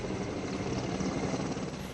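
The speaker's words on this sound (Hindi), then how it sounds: "सबसे पहले राहत फॉर्मेशन के साथ मी-17 V5 हेलीकॉप्टर्स होंगे।" Mi-17 V5 helicopters fly in formation at a Republic Day parade, giving a steady, moderately loud rotor whir and broad engine rumble that holds constant throughout without any talk.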